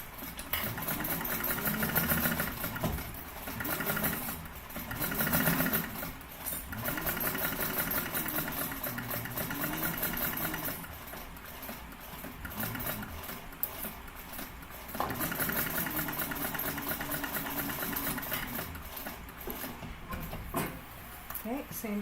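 Sewing machine stitching a seam on a Kensley tote bag, a close mechanical whirring hum that runs in stretches with short pauses between, with a voice talking over parts of it.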